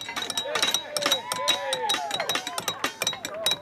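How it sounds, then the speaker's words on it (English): A hammer strikes nails in a quick, irregular series of sharp metallic clinks, about a dozen ringing blows close by, with voices talking faintly between them. "The sound that I want you to appreciate most will be the sound of the strikes of the hammer against those nails"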